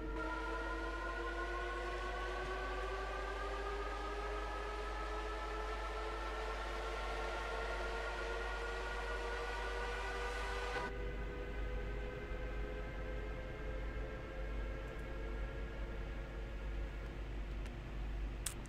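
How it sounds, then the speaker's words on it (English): A rapid transit train in Train Sim World passes on the adjacent track, a sustained rumble with rising and gliding whine tones from the motors, steady and fairly loud throughout before the pitch shifts abruptly partway. "there's now another train on the other tracks, just going to pass to our left"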